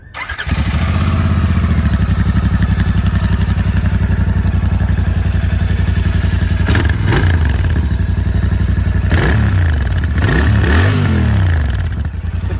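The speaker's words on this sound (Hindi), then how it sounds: "तो एक बार एग्जॉस्ट की साउंड हो जाए अब एक बार" A Royal Enfield Continental GT motorcycle with twin silencers idles loudly and close by with a thumping exhaust, then revs up sharply a few times before settling back.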